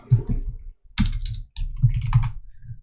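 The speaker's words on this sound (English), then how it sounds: "And I'm going to type" Keys on a computer keyboard are typed in quick, irregular bursts of close clicks while an article title is entered into a web form, heard alone with brief pauses between clusters.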